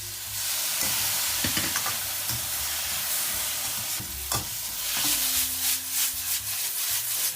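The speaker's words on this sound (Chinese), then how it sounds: "下入土豆丝， 中大火翻炒半分钟左右，烹入料汁。" Shredded potato is tossed in a wok over medium-high heat, giving a steady sizzle with repeated scraping and stirring strokes of a spatula throughout.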